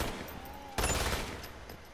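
A single sharp burst of gunfire in Umbrella Corps, sudden and fairly close after a quiet lead-in, trailing into faint clatter.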